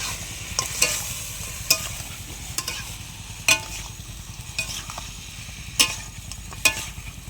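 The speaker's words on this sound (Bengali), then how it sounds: "এটা এখন ভালোভাবে একটুখানি কষাই নেবে" Food sautéing in a pan at an outdoor picnic near the Sundarbans forest, with a soft continuous sizzle under repeated sharp scraping strokes of a spatula at an uneven rhythm. No one speaks.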